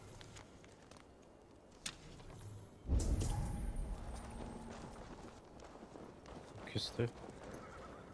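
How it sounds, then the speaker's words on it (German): Horse hooves clip-clop and a horse neighs in Assassin's Creed Valhalla, with a louder burst of movement partway through. Game audio plays under someone talking in German. "Ich hoffe, du nimmst das Pferd, dann kann ich mit meinen reiten."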